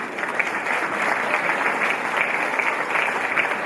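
An audience claps steadily and densely for the Kaštela majorettes, world champions, at an evening show at Marina Frapa. The applause is a full, even wash throughout, with no voices over it.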